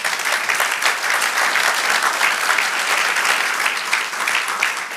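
A church congregation applauds during a Spanish-language sermon, with loud, sustained, even clapping filling five seconds at close range and no voices standing out.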